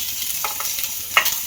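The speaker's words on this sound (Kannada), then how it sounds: "ಈಗ ರೈಸ್ನ ಆ್ಯಡ್ ಮಾಡ್ಕೊತಿದ್ದೀನಿ" Cooked rice is tossed and stir-fried over high flame in a pan for restaurant-style veg fried rice, giving soft scraping stirs and faint sizzling in a few quick strokes.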